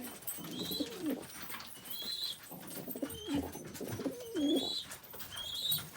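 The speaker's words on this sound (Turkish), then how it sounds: "bu oyun kuşu arkadaşlar bak bu oyun kuşu" Tumbler pigeons coo nearby in a coop in repeated throaty rolling calls, several bursts in a row over a quiet background with faint chirps.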